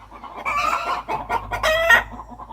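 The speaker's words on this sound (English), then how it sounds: "I'm going to play for you 2 common chicken sounds" Chicken alarm call given in response to a predator: a loud, agitated run of harsh clucks and squawks rising in intensity over a couple of seconds, close and alone with no talk.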